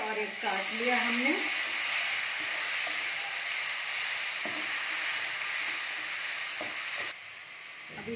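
Grated and chopped tomatoes frying in hot spice masala, a loud, steady sizzle with occasional stirring scrapes, a brief voice-like tone early on, easing slightly near the end.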